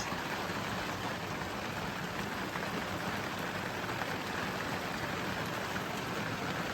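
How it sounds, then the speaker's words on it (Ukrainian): Heavy rain pours down steadily, a dense, constant hiss of drops with no pauses or other sounds. "Страшний йде дощ."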